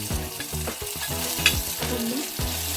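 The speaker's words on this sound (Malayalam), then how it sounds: "ആ കടുക് പൊട്ടി ഇനി നമ്മൾ അതിലേക്ക് ഉള്ളി ചേർത്ത് കൊടുക്കുന്നുണ്ട്." Chopped onion hitting hot oil with popped mustard seeds, a loud continuous sizzle with scraping stir strokes and a sharp crackle midway, heard up close without talk.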